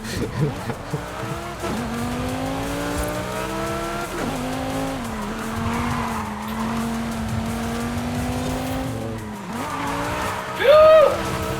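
Racing car in Forza Horizon 5 roaring loudly through gear changes, its tires squealing and skidding across laps, with a sharp squeal near the end and someone talking over it.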